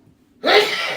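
A single close, sharp sneeze bursts out after a moment of near silence, with no talking.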